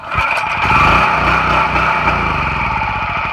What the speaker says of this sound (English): Starts up, runs for about 3 seconds, dun dun dun dun, dies